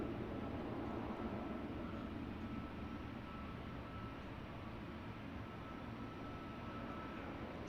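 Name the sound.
EasyJet jet aircraft departing Luton airport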